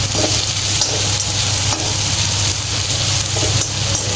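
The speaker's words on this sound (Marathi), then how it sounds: "कांदा व्यवस्थित परतून घ्यायचा आहे आपल्याला" Onion frying in a pan for street-style chaat, a steady close sizzle with a broad hiss running throughout, plus faint stirring clinks; no voices.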